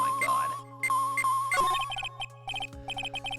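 A cell phone ringing in the Phoenix Wright: Ace Attorney: Justice for All video game, a chirpy electronic ringtone of short repeated beeps over a steady tonal game hum, with no speech.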